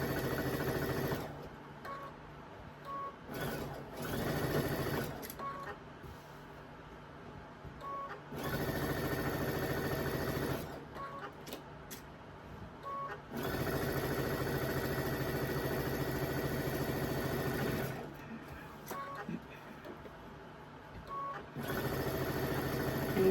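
A sewing machine stitches a pinned quilt block in several bursts of steady whirring, close and fairly quiet, with short pauses between runs and no talk.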